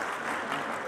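Applause from the audience at a mushaira poetry gathering, a dense, steady wash of many hands clapping together for under a second, fairly loud, with no gaps.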